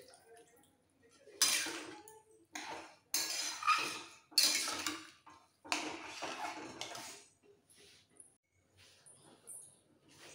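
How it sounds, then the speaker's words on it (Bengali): Clanking metal and splashing water as a pressure cooker is swished and rinsed with a small amount of water, coming in several bursts of scraping and sloshing with short quiet gaps between them. "কুকারের মধ্যে অল্প জল নিয়ে কুকারটা ধুয়ে দিয়ে দিচ্ছি।"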